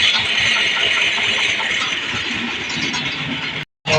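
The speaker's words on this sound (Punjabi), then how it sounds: "ਇੱਧਰ ਖੜੇ ਨੇ ਆਪਣੇ ਟਰੈਕਟਰ ਕੰਮ ਕਰਾਉਣਾ ਹੈ ਇਹਨਾਂ ਦਾ" A tractor engine idles nearby with a steady, rumbling mechanical drone and a light rattle. It runs evenly for about four seconds, drops out for a moment near the end, then resumes, with no talking.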